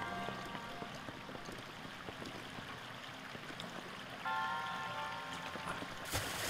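Flowing water current inside a shrine in Zelda: Breath of the Wild, a soft continuous rushing and trickling wash at low level, with faint game tones chiming in partway through and no talk.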